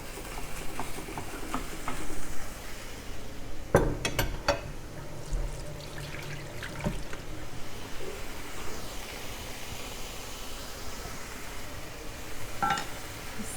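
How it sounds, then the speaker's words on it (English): Beef fillet searing in a hot oiled pan, a steady close sizzle and hiss with a few sharp crackles and pops, continuing without talk. "Hear that sear."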